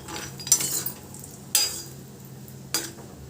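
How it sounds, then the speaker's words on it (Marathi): Half a cup of almonds fry in ghee while a spoon stirs them, three sharp scraping clinks against the pan at intervals over a faint, soft sizzle, close and quiet. "तर याच तुपामध्ये आपण अर्धा कप बदाम घालणार आहोत। ते पण थोडेसे तळून घेणार आहोत।"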